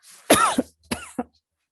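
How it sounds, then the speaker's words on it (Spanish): A single person coughs twice at close range, a longer harsh burst followed by a shorter one, with quiet around it. "Medio tos."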